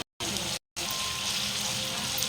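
Ginger garlic paste sizzles in hot oil in a pan, a steady close crackling hiss broken twice by short silent gaps, then continuing evenly with no voices over it.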